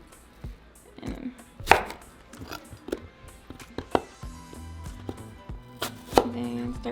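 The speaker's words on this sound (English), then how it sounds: "we're going to chop our apples" A knife chops apples with the peel left on for a Mexican apple salad, giving a string of sharp, close, irregular cuts and thuds against a cutting board, with no talking.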